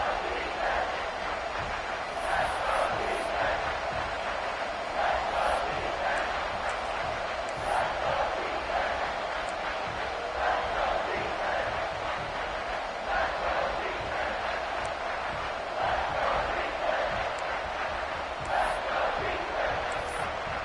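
Steady crowd roar from a packed stadium during a tight final period of a football game, a continuous wash of cheering and chatter at even loudness with occasional whistles above it.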